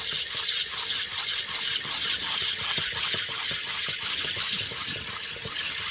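Water splashing and hissing steadily against the spinning wheel of a small intarsia grinding machine as it is re-wetted for lubrication, a continuous close wet spray with no talking.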